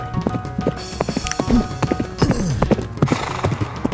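Horse hooves clip-clop steadily at close range as the horse is urged forward, with brief whinnies mixed into the rhythmic beat.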